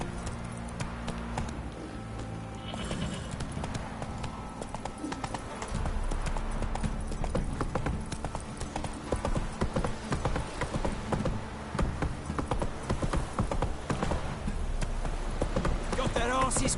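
Hooves of Roach, Geralt's horse in The Witcher 3: Wild Hunt, clip-clop steadily through the whole stretch, mixed with game music and ambience, while voices speak over the galloping.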